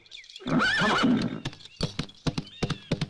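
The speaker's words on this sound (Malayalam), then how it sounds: "ഓ, ആ കുതിര എന്ത് മഹാപാപമാണോ ചെയ്തത്!" A horse carrying a rider gives a loud whinny, then its hooves clip-clop in a steady walking rhythm, close and clear, with no talk.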